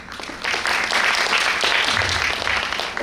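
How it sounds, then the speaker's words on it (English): Applause from a conference audience swells in after a brief quiet moment, with steady mid-sized clapping that holds and then thins slightly toward the end. "Please give him a round of applause."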